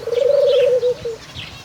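Pigeons coo in a steady run of soft, low, rounded calls lasting over a second, close and clear with faint background noise and a few quieter chirps after.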